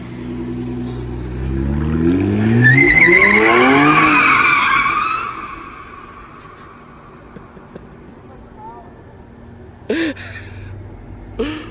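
A powerful drift car spins a donut, its engine revving hard while the tires squeal loudly for several seconds, then the noise fades to a low idle with brief chirps and voices nearby.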